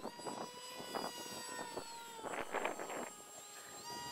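An H-King Bixler RC foam airplane flying at 80% throttle gives a steady high electric motor whine with shifting pitch, partly buried under loud wind buffeting around the microphone outdoors.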